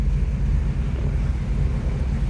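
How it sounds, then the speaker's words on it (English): A 1941 Mercury Town Sedan's flathead engine idles in a steady, smooth low rumble up close, even and unbroken throughout with no other sounds. "You can hear how smooth that engine runs."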